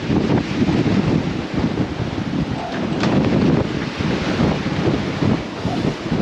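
Strong wind blows across a sailboat lying at anchor. It sounds as a loud, continuous buffeting of gusts hitting the microphone, with faint water sloshing underneath.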